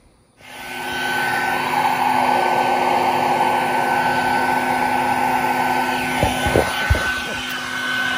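A vacuum used to remove bees drones loudly and steadily after a short quiet start, with a high whine on top and a few dull knocks and bumps near the end.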